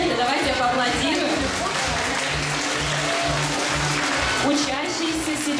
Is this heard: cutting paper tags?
no